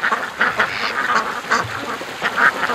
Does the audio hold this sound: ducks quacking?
yes